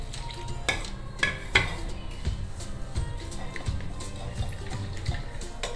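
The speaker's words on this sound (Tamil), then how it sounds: "ஸோ அதனால் புளி தண்ணியில் கரைச்சிருவோம்." Powdered spice being stirred into tamarind water in a pot for milagu kuzhambu, with a utensil clinking and scraping against the vessel in irregular taps over a low kitchen background.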